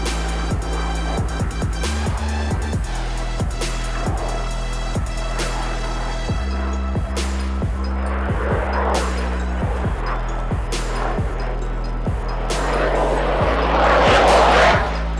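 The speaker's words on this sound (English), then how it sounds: "Now the aircraft is performing a minimum radius turn right in front of you." A fighter aircraft flying a minimum radius turn at the Aero India 2025 airshow in Bengaluru, its loud sustained jet roar swelling toward the end, with crowd noise and a rhythmic clicking under it.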